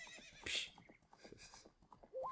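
Horse neighing and hooves in the video game Ocarina of Time: a short, bright whinny bursts out over a rapid, clattering beat of hoofsteps, followed by a rising synthesized tone at the end.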